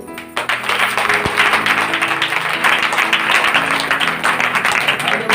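A church congregation claps hands together, a dense continuous patter of many palms sustained loudly throughout, with a low steady hum of background tones beneath.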